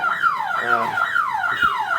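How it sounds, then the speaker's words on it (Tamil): A CCTV security camera's intrusion alarm wails in repeated falling sweeps, loud and close, cycling about every half second without pause. "இப்போ வந்து பாத்தீங்கன்னா உங்களுக்கு அலாரம் வந்து ட்ரிகர் ஆயிடுச்சு."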